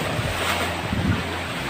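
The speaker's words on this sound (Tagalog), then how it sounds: "Malalaki yung alon." Large ocean waves surge and wash steadily at a small seaside cave at Hulagaan, a continuous loud roar mixed with wind buffeting the microphone.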